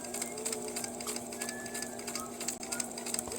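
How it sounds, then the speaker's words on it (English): Sewing machine stitching fabric, a continuous fast rhythmic whir with a steady hum underneath, close and moderately loud, with faint bird-like chirps in the background. "we're sewing, by the way"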